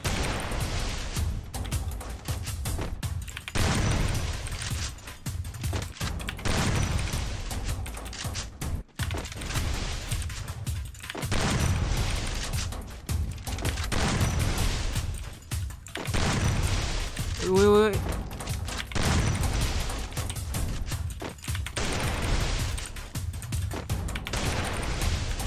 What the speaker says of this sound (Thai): ได้ยินเสียงปืนแปลกๆนะ